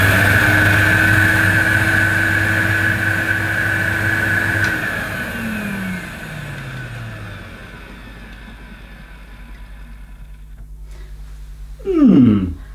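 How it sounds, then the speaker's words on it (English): Motor of a vintage Electrolux 502 upright vacuum cleaner hums steadily with a clear whine, then switches off and winds down in falling tones before a short bump near the end. "Well, the motor sounds okay, very, very quiet."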